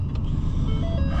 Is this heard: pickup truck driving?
yes